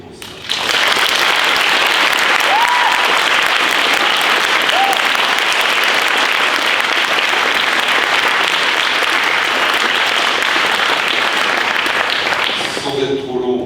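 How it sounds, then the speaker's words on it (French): A large audience at an eloquence contest final claps steadily and loudly for over twelve seconds, a dense continuous wash of applause that cuts off abruptly at the end. "et je vous demande de les applaudir pour ça."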